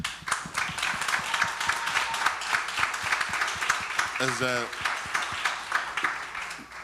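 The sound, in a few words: round of applause for the NAACP staff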